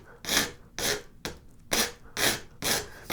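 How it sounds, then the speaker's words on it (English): A rasp files a steel straight razor blank to rough shape, six long rhythmic rasping strokes with brief gaps between them, close and fairly loud with no talk. "with the rasp, I'm just going to get it close to shape"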